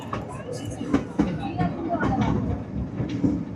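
A small toy train rides through Borivali National Park, its wheels rattling steadily with irregular clicks and knocks. Riders chat over the rolling sound.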